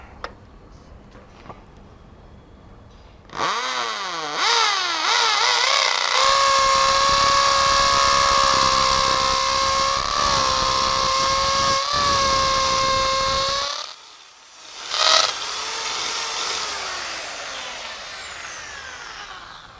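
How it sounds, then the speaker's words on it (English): A Bosch GSB 10 RE corded impact drill in hammer mode spins up drilling an 8 mm hole, running steadily at high pitch for about ten seconds, briefly stops, then whirs again more softly. "So we drill a 8 mm hole and then fix the anchor."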